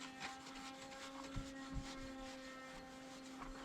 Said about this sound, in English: We're gonna wipe the wheels, both sides, get them cleaned up.